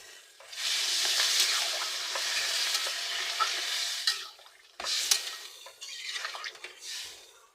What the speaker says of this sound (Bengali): এবার ভেজে রাখা আলু দিয়ে আবার আমি ভালো করে কষে নেব।